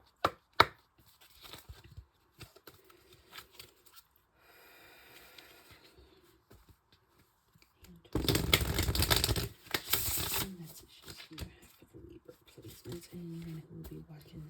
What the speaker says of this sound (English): So I'm going to shuffle the other cards